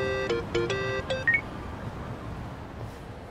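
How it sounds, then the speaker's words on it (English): A quick series of electronic phone-dialing beeps from a mobile phone in Yakuza: Like a Dragon, several short tonal chirps in the first second and a half, then quiet room tone. "Kasuga, call me on your phone."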